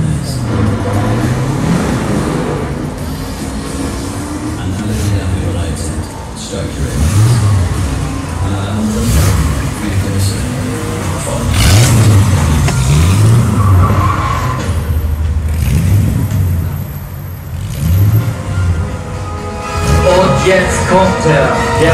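A red Mercedes SEL 6.8 AMG drives past at a Mercedes museum event, its engine rising and falling with tire noise under continuous announcer talk and crowd ambience.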